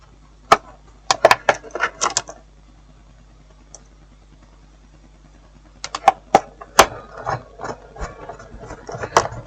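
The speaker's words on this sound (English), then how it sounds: "So let's put back all the screws." Screws go back into a Bluetooth speaker casing with close, sharp clicks and small plastic taps. They come in two irregular clusters separated by a quiet stretch.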